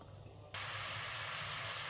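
Finely chopped onions hit hot vegetable oil in a pan, a sudden loud sizzle that starts abruptly and holds as a steady, bright hiss.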